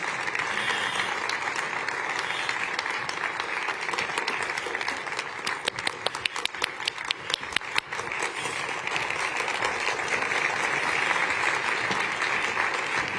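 Sustained audience applause welcomes the Mahler Chamber Orchestra to the stage at the World Economic Forum 2026 opening in Davos, a dense, steady clapping that swells with sharper bursts midway.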